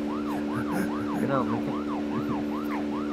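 Wailing police car siren from the video game Deadly Premonition, rising and falling in steady repeated sweeps at close range, with a short word of speech and some game noise beneath.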